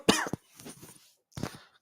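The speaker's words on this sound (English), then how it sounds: "Got a bloody cough after that." A few sharp, close coughs in quick succession, separated by short pauses and quiet rustling, with no talking.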